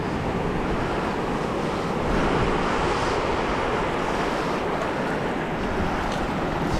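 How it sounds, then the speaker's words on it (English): Ocean surf rolling onto a beach where Pismo clams are dug, a loud continuous wash of breaking waves with steady wind buffeting the microphone throughout. "you always want to make sure you always look at the waves"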